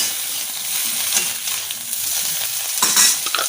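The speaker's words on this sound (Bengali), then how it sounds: "একটুখানি লবণ দিয়ে বেগুনটাকে ভেজে নেবো।" Eggplant frying with a little salt in a pan, a steady close hiss of oil with faint scrapes and light crackles running throughout, no voices.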